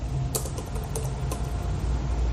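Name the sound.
typing on a computer keyboard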